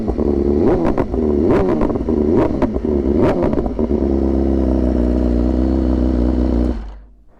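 A 2023 BMW S1000RR fitted with full Akrapovic titanium headers and an SE Project slip-on revs loudly in several sharp blips up close, then settles into a steady idle before cutting off.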